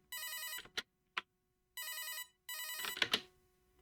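A telephone rings in a horror video game with repeated bursts of an old-style electronic bell, two long rings separated by short clicks, then a final ring that breaks into sharp noises. Clear and close, with nothing else around it.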